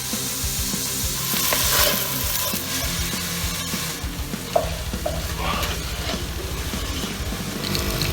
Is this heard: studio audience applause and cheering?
no